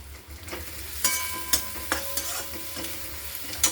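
Spices with turmeric and crushed peanuts frying in a pan with softened tomato, a spoon scraping and stirring in distinct strokes over a steady low sizzle, close and fairly quiet.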